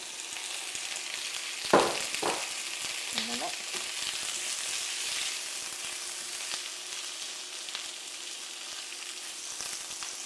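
Chopped tinned potatoes drop into a hot pan with a sharp hiss, then settle into a steady, close sizzle of frying with occasional stirring scrapes, no voices.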